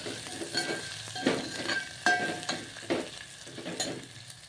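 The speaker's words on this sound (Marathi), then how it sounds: "मोहरी तडकली आता आहे मी लसूण आणि अद्रकीची पेस्ट आणि इथं टाकला" Mustard seeds popping with garlic and ginger paste frying in a pan, a steady close sizzle broken by several louder crackling bursts and occasional stirring scrapes, with no voices.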